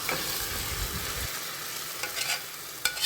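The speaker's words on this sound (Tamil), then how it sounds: "இப்போது இது எல்லாத்தையும் சேர்த்து அதோட ரா ஸ்மெல் போகிற வரைக்கும் நல்லா வதக்கிக்கலாம்" Spices and masala for mutton sukka sauté in a pan, giving a continuous close hiss of frying with occasional stirring scrapes toward the end; no voices.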